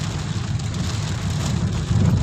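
Heavy rain falls in a steady, loud broadband hiss that holds without a break, with a low rumble underneath and no voices.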